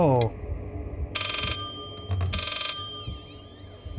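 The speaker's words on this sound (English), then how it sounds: "Who's ringing? Where's the phone at?" A telephone ringing in the horror video game Layers of Fear, with two electronic bell trills about a second apart over low ambient rumble, and a person talking at the start.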